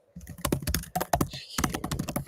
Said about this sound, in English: I hear you're typing